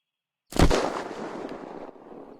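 A single weapon shot fires in the survival game Unturned, a sharp close report followed by a long rumbling decay that fades over about two seconds.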